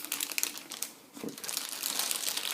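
Crinkly plastic wrapping rustles and crumples as it comes off the tail of a Hot Toys Alien Warrior figure, close and continuous with a brief lull in the middle.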